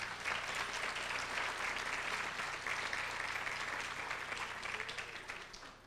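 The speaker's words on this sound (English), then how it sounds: "Let's give them a round of applause." An audience at an evening law school lecture reception applauds in a dense, even wash of clapping that holds steady and then gradually fades toward the end.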